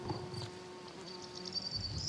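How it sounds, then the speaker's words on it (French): Bees and bumblebees buzzing around melliferous flowers in a permaculture garden in May, faint droning hums with a few passing tones, quiet and outdoors with no voices. "Là, c'est le bal des pollinisateurs, des abeilles, des bourdons."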